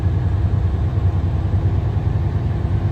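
A 2023 Kenworth W900 heavy-haul truck engine runs with a steady, deep rumbling drone at close range.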